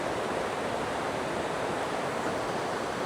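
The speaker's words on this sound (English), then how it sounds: "These waterfalls just keep going and going and going and going." The Rhaeadr Ddu (Black Waterfalls) in Welsh woodland pour in a steady, loud, broadband roar of rushing water, constant and unbroken throughout.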